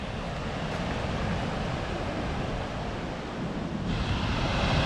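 A Kentucky waterfall likened to a miniature Niagara Falls roars as a steady, dense broadband rush of falling water, heard close and continuous throughout with no voices.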